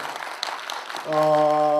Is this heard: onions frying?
no